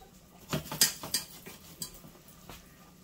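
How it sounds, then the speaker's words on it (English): Butter melting in a medium saucepan, with a spoon scraping and clinking against the metal pan in a quick run of strokes over a low, faint background hiss. "I've got a smaller saucepan this time, more of a medium size, and I'm putting in my 5 tablespoons of butter. I'm going to melt that"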